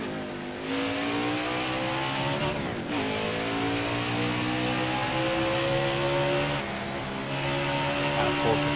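A race car engine revs hard at Watkins Glen in a racing video game, a loud, continuous whine climbing steadily in pitch with brief dips at gear shifts, close and alone with no talking.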